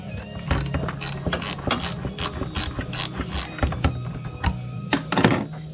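A ratchet fitted with a 7.5-inch extension and a shallow 10mm socket backs out a bolt on a Kawasaki Brute Force 750 during a clutch kit job, giving close, loud rapid pawl clicking in repeated bursts with a few thunks.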